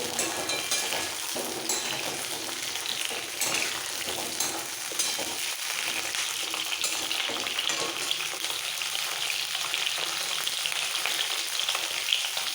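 Pointed gourd frying in hot oil, a dense continuous crackling sizzle that stays loud and even throughout, with occasional faint stirring scrapes and no voices.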